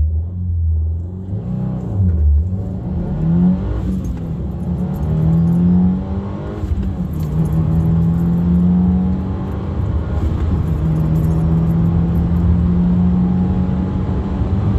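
A 2022 Subaru WRX on an off-the-shelf Cobb 93 tune accelerates hard through the gears, its engine note climbing loud and close, dropping briefly at each shift, then pulling up again.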